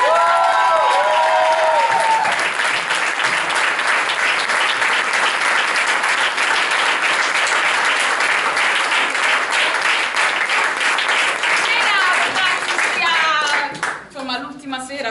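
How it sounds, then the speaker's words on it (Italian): Theatre audience at a school drama company's performance claps in a long, dense, steady burst of applause, close and loud; a voice is heard briefly at the start and again as the clapping fades near the end. "quindi un applauso a Chiara Castiglione"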